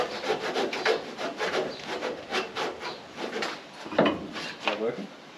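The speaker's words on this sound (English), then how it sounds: "So I just got a little hacksaw cutter dude that you can get in under there. So I'm just trying to cut the adhesive" A small hacksaw-style cutter slices through adhesive under a tailgate panel on a VW Amarok, making soft, rhythmic rasping strokes at close range, with people talking over it.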